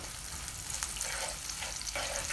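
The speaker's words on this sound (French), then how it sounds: "Donc on fait revenir les oignons" Onions frying in a pan, a steady close sizzle with faint stirring scrapes, continuous and fairly loud, with no talking.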